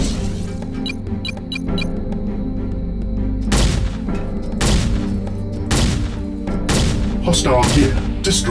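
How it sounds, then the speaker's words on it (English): Destroyed gear exploding in the mech game Heavy Gear: a series of heavy booming blasts in quick succession, loud and close, over a steady engine hum. "Hostile gear destroyed."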